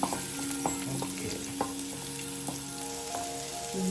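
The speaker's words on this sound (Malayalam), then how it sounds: "ഈ ചട്ടിയിൽ നല്ല ഗാർലിക്കും ചില്ലിയും ഇട്ടിട്ട് വഴറ്റിയെടുക്കണം" Garlic and chili sauté in a pan, a continuous close sizzle with scattered clinks and scrapes of stirring, fairly quiet and with no voices.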